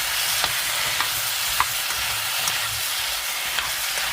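Potatoes, sliced green onion and onion are stir-fried over high heat for Korean braised potatoes, a steady hissing sizzle with occasional sharp spoon taps against the pan.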